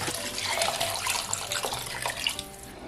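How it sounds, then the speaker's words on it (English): Water pours steadily into a pot of native Nigerian jollof rice, a continuous splashing stream close by for about three seconds with no talking. "So I'm going to be adding more water,"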